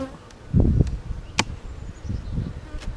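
Honeybees at an open hive in hot weather give a faint, steady buzz, with a few louder individual bees passing close by at intervals.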